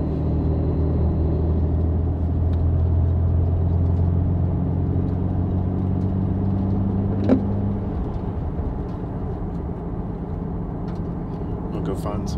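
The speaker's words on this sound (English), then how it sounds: "I think this is the Apexy muffler." A 1996 Nissan Skyline R33 V-Spec with an Apexi muffler idles and rumbles from inside the moving car, a steady low engine and exhaust drone that drops slightly partway through, with a brief click near the end.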